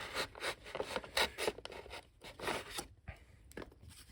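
A razor blade slices through foam on an E-flite Viper 90 model jet during a turbine conversion, giving close, quiet scratchy rasping strokes in quick irregular succession.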